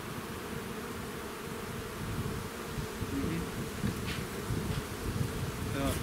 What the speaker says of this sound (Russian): Выпускай пчелок с решеток.